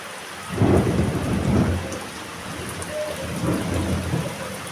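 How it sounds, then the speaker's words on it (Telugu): Thunder rolls low and heavy twice over a constant hiss of heavy rain. "ఉరుములు మెరుపులు"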